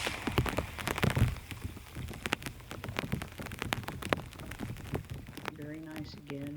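Steady rain falls on water at an outdoor training pool, a dense patter of drops and splashes that is loud early on and continues throughout, with a few brief tonal sounds near the end.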